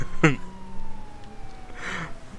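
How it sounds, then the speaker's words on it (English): A police siren wails faintly in the distance in GTA 5 Online, a thin falling tone under scattered game noises and short bursts of sound. "I can just hear you fucking siren in the distance"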